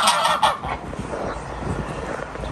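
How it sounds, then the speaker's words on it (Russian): A group of geese honk at a petrol station in Turkey, with a loud burst of raucous calls at the start followed by steady, overlapping honking nearby. "И вот такие вот гуси."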